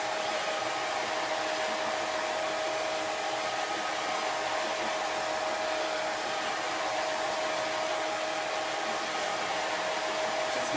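Hair dryer blowing steadily to dry a transfer on upcycled thrift-store fall pumpkin decor, a constant, close, fairly loud whoosh with a thin whine running through it, alone for about ten seconds.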